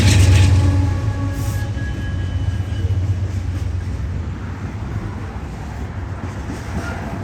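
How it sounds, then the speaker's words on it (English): A loaded 100-car Canadian Pacific grain train rumbles steadily past at close range, a low continuous roar of rolling wagons with a faint horn tone at the start. "we have a loaded 100-car grain train off the Canadian Pacific, headed towards the Cascades"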